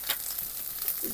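Spices with ginger, garlic and onion fry in a pan, a close continuous sizzle with light stirring scrapes, brief and without voices.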